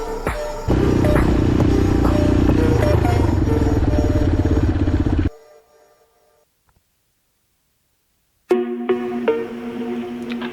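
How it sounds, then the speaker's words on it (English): A Templar X motorcycle fitted with a Honda CB300RL four-valve engine runs through the gears with a buzzing, rising engine note. It cuts out into near silence for a few seconds, then the engine drone returns. "I took her out for a little ride, just to go through the gears"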